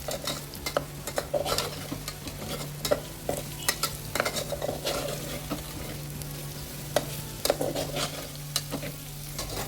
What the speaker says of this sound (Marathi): ते बटाटा लालसर होईपर्यंत आपण भाजून घेऊ